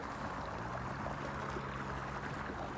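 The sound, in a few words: irrigation water flowing fast in a farm field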